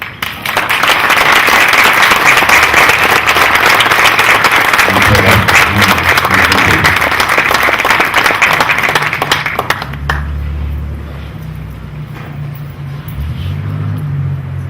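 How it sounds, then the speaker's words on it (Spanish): An audience gives dense, loud, sustained applause in honour of writer Fernando del Paso at a gathering. The clapping fades out near the end, leaving a low rumble and then a voice speaking. "les pido un aplauso para él"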